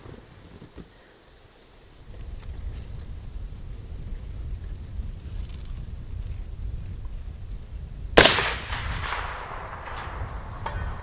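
A rifle fires once at an outdoor shooting range, a sharp loud crack with a rolling echo that fades slowly, set against steady wind noise buffeting the microphone.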